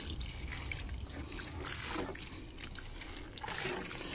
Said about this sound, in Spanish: Bueno, pues ahorita vamos a regarlas.